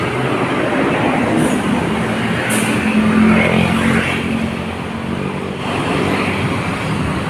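Vehicles stream steadily across Quezon Bridge in Manila, a continuous loud wash of road traffic with engine rumble and tire noise rising and easing as cars pass close by, no talking.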